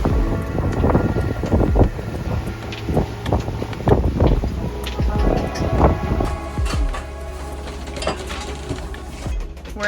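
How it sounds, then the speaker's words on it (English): Strong wind roars over the microphone on a sailboat at sea in 24-knot winds and heavy swell, with rushing water and gusty buffeting throughout, the low rumble steadying toward the end. "It was like 24 knots of wind, crazy swell."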